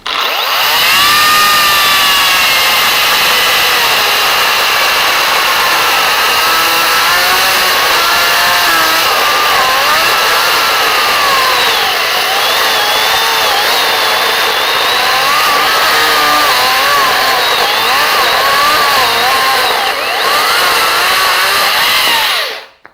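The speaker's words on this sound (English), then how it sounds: "I think this time I'm going to use this chainsaw." A chainsaw roars loudly and steadily, its pitch wavering as it bites into boxwood shrubs, running continuously with a brief dip near the end.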